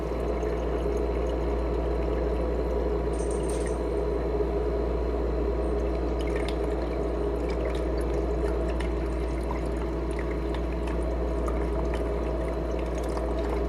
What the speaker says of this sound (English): now it just starts filling the thing back up with water